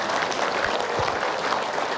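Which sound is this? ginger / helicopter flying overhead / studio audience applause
studio audience applause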